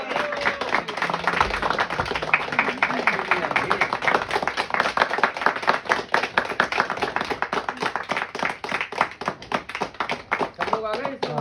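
A group of students and their teacher clap together indoors at New Year, starting with scattered claps and building into loud, rapid, sustained applause, with voices talking over it.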